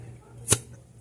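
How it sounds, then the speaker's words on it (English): A pickle jar lid pops open with a single short, sharp crack in a kitchen, standing out over a faint steady background hum. "let's pop these pickles open"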